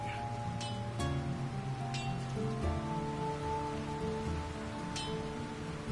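Steady rain falls in Lord of the Rings: War in the North, a constant soft patter under a low sustained game-music drone, with a few faint chiming tones now and then.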